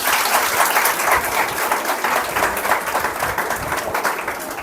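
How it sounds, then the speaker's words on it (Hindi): An audience at a school valedictory programme claps for the students, loud, dense applause from many hands that fills the room steadily from start to finish with no talking. "तो सबसे पहले अपने लिए तालियां बजा दीजिए।"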